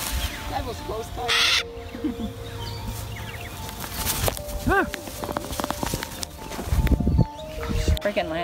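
Parrots calling loudly outdoors, with scattered harsh squawks and one sharp ringing shriek midway, mixed with people's voices and movement nearby.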